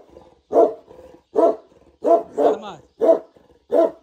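A dog barks six times at a steady pace, loud and close, with soft panting or whining between barks and no talk.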